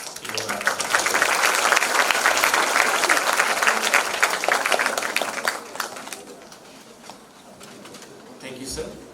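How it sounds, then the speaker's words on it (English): A crowd at a medical congress claps steadily for several seconds, then the applause thins and fades, with a voice briefly heard near the end. "Let's give a round of applause."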